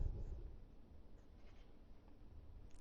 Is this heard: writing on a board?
yes